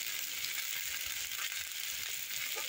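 Taro and potatoes sizzle in hot oil with turmeric and chilli powder as they are sautéed for a village-style curry. The frying hiss is continuous and moderately quiet, close by, with no talking.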